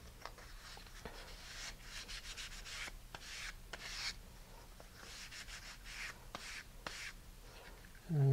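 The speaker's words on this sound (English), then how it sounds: "Now I'm going to switch to fine grit sandpaper to make the whole surface smooth." Fine-grit sandpaper rubbing across a model rocket's vertical tail fin, a soft, close, continuous hiss of strokes with steady back-and-forth rhythm and brief pauses between passes, no talking.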